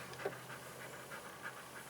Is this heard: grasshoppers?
no